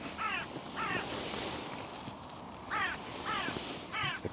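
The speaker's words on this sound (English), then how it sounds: "the crow is sat at the top of the tree that the little owls are nesting in" A crow caws from the top of a tree, calling in two pairs of harsh repeated caws separated by a pause, fairly clear above a soft rustling outdoor background.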